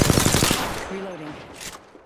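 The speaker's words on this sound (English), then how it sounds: "Enemy fire." Enemy gunfire in a shooter video game: a rapid automatic burst of closely spaced shots, loud and near for about half a second, then a short electronic tone and fading ambience.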